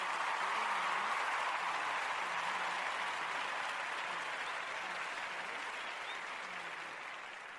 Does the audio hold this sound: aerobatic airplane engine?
no